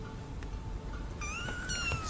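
A cat meows in a scene from Harry Potter and the Order of the Phoenix, two drawn-out, wavering calls in a row over a constant low background hum. The meows are moderately loud and close.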